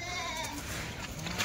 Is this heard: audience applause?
no